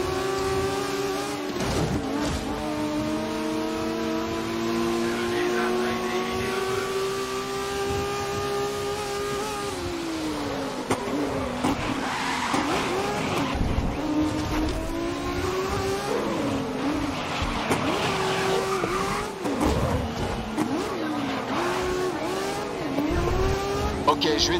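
Race cars in a Grid Historic GT race video game, engines revving and shifting through gears with rising and falling pitch, tire squeal and several cars nearby, with a voice talking over the racing.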